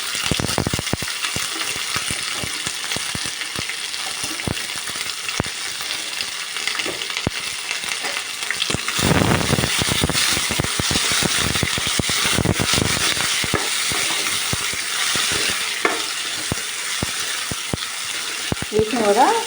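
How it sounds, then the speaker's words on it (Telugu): Tomato, onion and carrot pieces fry in a pan for coconut rice, a steady loud sizzle with dense crackles and scattered clicks and scrapes, close with no talking. "టమోటా ఉల్లిపాయలు అలాగే క్యారెట్ ముక్కలు వీటన్నిటిని కూడా వేయించుకోవాలి"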